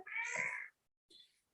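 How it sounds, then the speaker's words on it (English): A male house cat lets out one drawn-out meow, close and fairly quiet, followed after a short pause by a second, fainter and briefer call. "that was my cat, who wants to be included in all things as he must"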